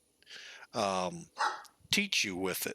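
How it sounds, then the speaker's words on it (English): A dog barks several times in short, loud bursts, joining in while someone talks nearby. "And yes, that was my dog trying to chime in too."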